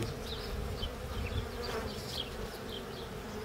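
A dense, steady buzz of many bees swarms around an open bee hive during hive work, close and continuous with no talking.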